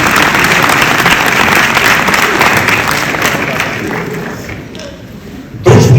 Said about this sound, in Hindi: और आपकी तालियों ने बहुत बहुत शुक्रिया।